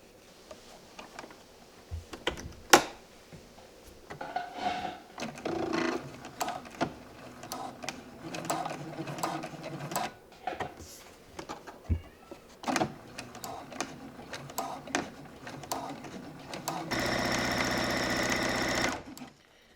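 A sewing machine stitches a curtain hem in bursts of rapid mechanical whirring with short pauses and clicks between runs, ending in a steady, louder run near the close.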